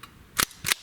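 An AEA Megalodon air rifle fires twice in quick succession, each a sharp, close crack with a short tail, separated by a brief quiet gap.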